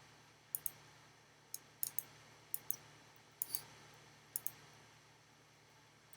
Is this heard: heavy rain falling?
no